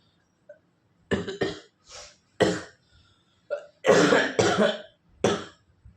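Several harsh coughs come in uneven bursts, some doubled, close to the listener, with quiet pauses between them.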